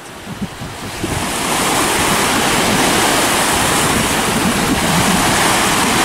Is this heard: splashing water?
yes